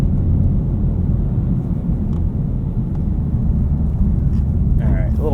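A Honda Civic Type R FL5 drives on a slippery winter road, its engine and tire rumble droning steadily from inside the cabin, with a brief voice near the end.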